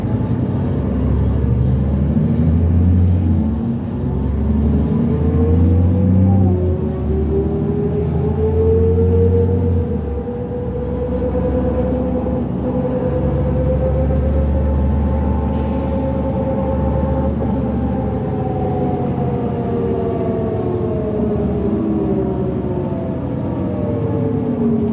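A retired SEPTA D40LF transit bus with a NABI exhaust pipe runs on route 68, its diesel engine rumbling loud and close as it rises through gears, then settling into a long steady drone.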